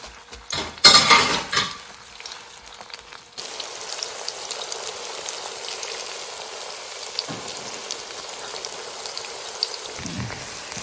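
Chopped onions hit hot oil in a home kitchen pan for Urdu/Hindi cooking, a loud clatter and splash at first, then a steady hissing sizzle that carries on with small crackles and a pan knock near the end.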